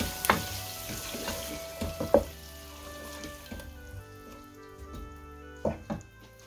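Chicken karahi being stirred in a pan with black pepper just added and the flame turned off, giving soft scraping and stirring clatters with a few sharper knocks over a faint background sizzle.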